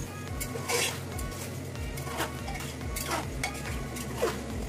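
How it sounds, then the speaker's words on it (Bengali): Spoon stirring meat for biryani inside a pressure cooker, with scraping and a soft sizzle of frying, steady and close with no talking. "নাড়াচাড়া করে পুরো মাংস দিয়ে দিলাম।"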